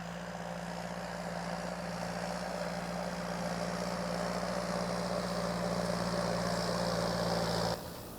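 A truck engine idles steadily at a grain harvest in Mynämäki, Finland, a low constant rumble close by that cuts out abruptly near the end.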